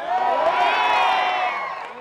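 A theatre audience at a film's success celebration cheers and whoops loudly, a dense crowd roar that swells and then slowly fades over a couple of seconds.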